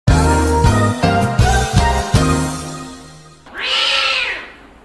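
Cats in a fight, with loud, drawn-out harmonic yowls and meows that rise and break in several bursts, then a harsher, noisier growl near the end, all close and with no talk.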